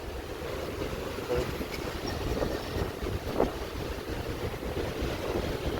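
Steady wind buffets the microphone with a constant low roar outdoors at Eastwood City, Quezon City, and faint distant voices are barely audible beneath it.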